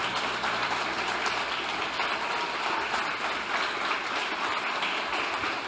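Church congregation applauding together in steady, sustained clapping at a Lord's Supper service, even and continuous throughout, at moderate distance with no talking over it.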